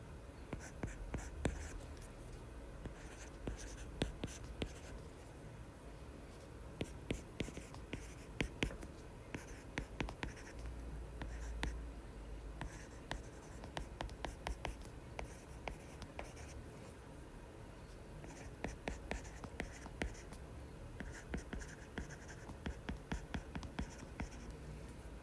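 Steady handwriting fills the stretch, a pen or pencil scratching and tapping across paper in irregular strokes, close and fairly quiet, with no voice over it.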